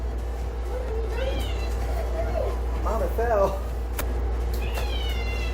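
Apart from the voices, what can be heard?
cat meowing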